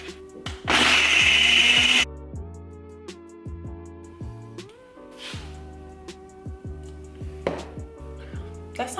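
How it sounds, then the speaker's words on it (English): A Ninja blender blends a protein smoothie in a loud, harsh whirring burst of about 1.5 seconds. Quieter clinks, rattles and handling knocks follow. "I'm using my Ninja blender."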